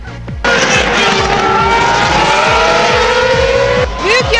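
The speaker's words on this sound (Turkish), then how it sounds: "İşte bu kulakları yırtan motor sesi bile heyecanlanmaya yetiyor." High-pitched Formula 1 engines screaming loudly at a 2006 race, several cars roaring past in a dense wall of engine noise with rising and falling pitch.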